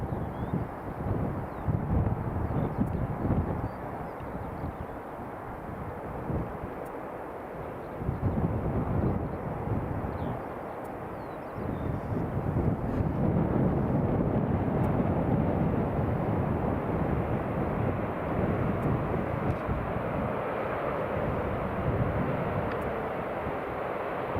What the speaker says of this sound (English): Aer Lingus ATR 72-600.